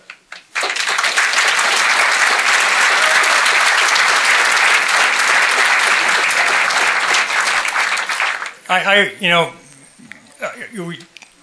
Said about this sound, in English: let's not try to keep the clapping down